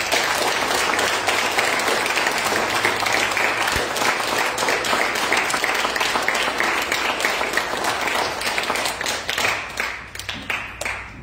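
A hall full of people at a scout Court of Honor breaks into sustained applause, dense clapping that holds steady for about ten seconds before thinning out toward the end.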